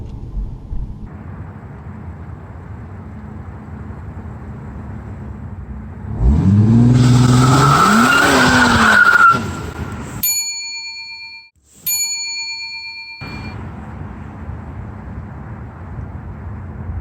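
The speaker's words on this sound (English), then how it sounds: "Put the pedal to the floor. Rev it up to 2500." An Infiniti Q50S 3.0T engine revs up loudly for a launch control start, rising and wavering for a few seconds before dropping. Two sets of sharp electronic chimes follow over a low idle.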